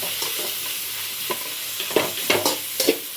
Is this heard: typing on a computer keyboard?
no